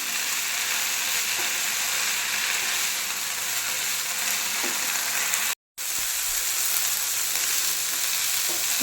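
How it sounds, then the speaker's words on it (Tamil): Coriander leaves sautéing in a pan for thokku, a steady close sizzle and crackle of frying greens running throughout with faint stirring scrapes, broken by one brief gap of silence midway. "அந்த ஈரப்பதம் போகிற வரைக்கும் நீங்கள் வதக்கினா போதும்."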